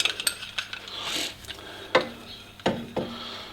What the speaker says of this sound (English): so you've got to clamp it down